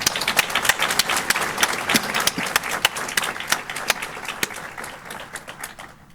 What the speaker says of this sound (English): Can you join me in another round of applause?